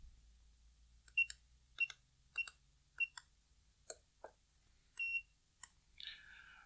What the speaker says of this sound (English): Press and hold the hash key on the keypad until the LED flashes and the gate opens